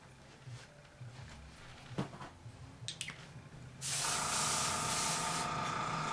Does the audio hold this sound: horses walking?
no